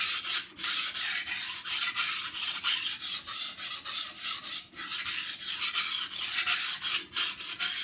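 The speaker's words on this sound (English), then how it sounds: "I'm still using edge trailing strokes. And I just move from the front of the knife, the tip, to the heel" Kitchen knife being sharpened freehand on a stone with edge-trailing strokes from tip to heel while removing the burr, a close rhythmic series of raspy rubbing strokes, evenly paced and continuous, with no voices.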